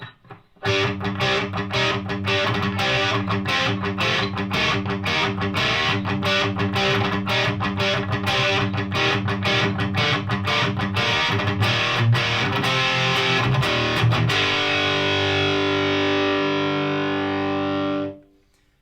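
An electric guitar played through a Park's Custom Pedals Ninurta overdrive/distortion pedal chugs out loud, rhythmic chords with a JCM 800-like tone, then rings out on a sustained distorted chord before cutting off.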